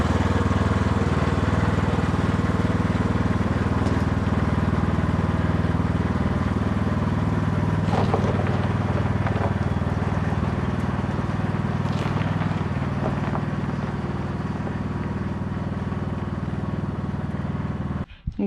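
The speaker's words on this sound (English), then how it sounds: "lawnmower to the rescue because the golf cart is dead" A small lawn mower engine drones steadily and close, towing a Packard out of a garage. It runs at an even pitch throughout, with a few faint knocks and clanks over it, then cuts off at the end.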